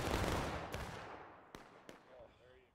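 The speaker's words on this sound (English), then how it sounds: "Very distance, long-distance shooting right now going on here." Distant rifle fire in the Civil War game War of Rights during a 300-player farmland battle: three or four sharp, far-off cracks spaced irregularly over a fading rumble of battle noise.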